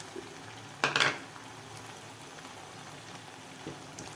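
Tamarind water, salted, splashes into a hot pan of masala and fried dried fish, giving one short, sharp sizzling burst close by before the kitchen falls back to quiet.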